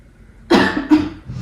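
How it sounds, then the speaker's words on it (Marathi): Two close coughs from a sick woman with a fever, the first harsher and the second following a moment later, near and fairly loud with no talk. "खोकला तर येतोय तुला"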